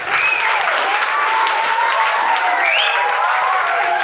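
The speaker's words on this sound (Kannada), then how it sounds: "ಚಪ್ಪಾಳೆ ಚಪ್ಪಾಳೆ ಚಪ್ಪಾಳೆ" Students and guests at an Independence Day school celebration clap together in steady, sustained applause, a thick crowd of hands sounding loud and close, with faint voices and a brief whistle-like cry rising within it.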